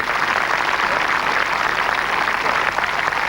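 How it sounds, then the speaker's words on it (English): A golf tournament crowd at the Compaq Swedish Open applauds steadily, a dense, continuous wash of clapping heard from a moderate distance with no talk over it. "Applause from the crowd, but she'll be furious."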